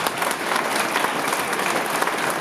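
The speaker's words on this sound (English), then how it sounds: "Can you please give them a round of applause?" Steady applause fills a public meeting on a flood mitigation proposal at a workers club, a dense, even wash of clapping from a seated audience with no voices on top.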